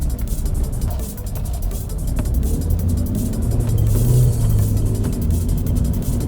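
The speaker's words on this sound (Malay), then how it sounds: "Selepas berapa puluh tahun, enjin ni masih sedap" A restored Proton Satria GTI's engine runs steadily, a low continuous rumble with mild swells as if gently revving or cruising, with no voices over it.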